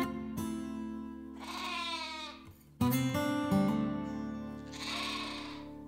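Sheep on a Kentucky sheep farm bleat loudly and close by, two long wavering calls separated by a short pause, with no talking over them.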